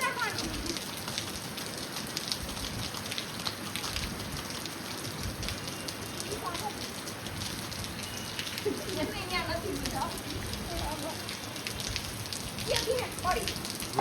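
The season's first heavy rain pours down in a steady, dense patter on surfaces nearby, continuous throughout, with faint bird calls and occasional voices in the background.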